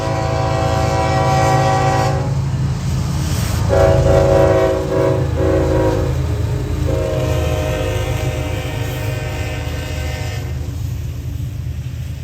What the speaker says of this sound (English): NS 344 rolls through Laurel with 3 Union Pacific motors.